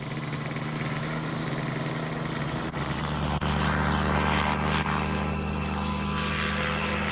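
A microlight aircraft converted to a float plane drones with a loud, steady engine and propeller roar, close and continuous throughout.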